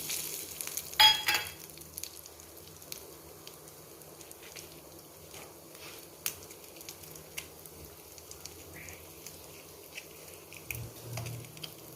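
Mustard seeds, urad dal and hing frying in hot oil, heard as a soft, steady sizzle with faint crackling pops and occasional stirring clinks, close by and fairly quiet.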